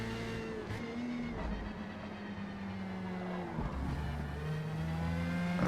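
Formula Mazda spec race cars brake at Road America in Forza Motorsport, with several engines droning and shifting pitch together as they slow into the corner. The steady, dense engine wash continues throughout without any voices.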